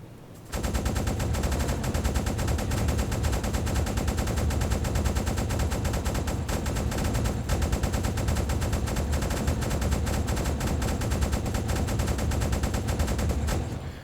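An anti-aircraft gun on a submarine in the UBOAT game fires continuously, a dense sustained rattle of rapid shots that starts suddenly and holds steady for over ten seconds before stopping.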